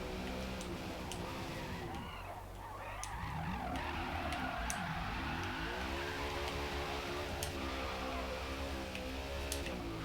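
A BMW race car lapping a track in the Forza racing game plays faintly in the background: a continuous engine drone with shifting pitch, some tire skidding and a few light ticks, with no talking.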